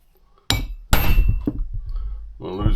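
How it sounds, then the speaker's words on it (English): Sharp metal hammer blows on a truck part clamped in a bench vise, a loud clanking strike followed by a second heavier hit with ringing decay, close and alone. "I'm going to just hit it with a hammer."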